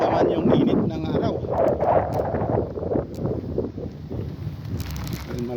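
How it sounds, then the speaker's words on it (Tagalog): Strong wind buffets the microphone outdoors among many trees, a loud continuous rumbling roar with gusty swells, while a person talks under it. "Malakas ang hangin."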